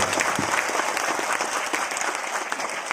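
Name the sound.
audience applause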